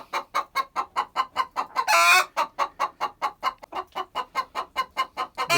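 Young hens of the Liven Calico, Amrocks and White Leghorn breeds cluck rapidly and rhythmically, steady and close, broken briefly by a louder, harsher squawk before the even pulsing resumes.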